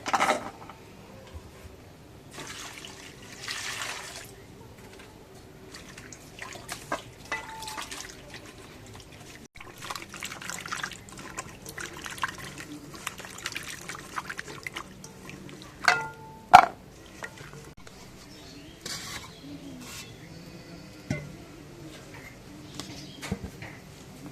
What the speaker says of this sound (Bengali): এখন সজনাটা ধুয়ে নেই